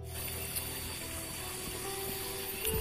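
Clear water running steadily at a village water source in rural West Java, a continuous close trickle and gush with a faint mechanical hum beneath, no voices.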